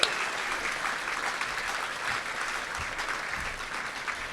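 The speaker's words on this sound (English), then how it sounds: "Keep that applause going" Sustained applause from the audience at an awards gala dinner, a steady dense wash of clapping held at an even level throughout, no speech over it.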